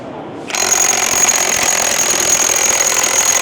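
A Milwaukee cordless power tool starts after a brief quiet moment and then runs with a steady, loud, high-pitched whir while fastening, continuing unbroken and close up, with no talking.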